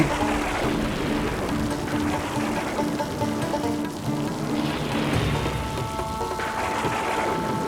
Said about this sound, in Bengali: প্রচন্ড বৃষ্টি পড়ছে যে